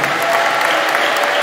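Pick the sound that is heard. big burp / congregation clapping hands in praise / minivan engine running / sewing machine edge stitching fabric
congregation clapping hands in praise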